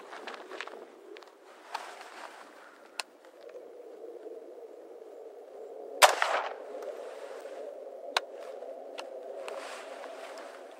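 An AR-15 rifle fires at a target three yards away. One loud, sharp crack stands out, with a few fainter snaps over a low, muffled background rumble.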